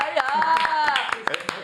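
Studio audience clapping to welcome Romain Menro onto a French video-game talk show, steady close applause mixed with cheering voices for under two seconds.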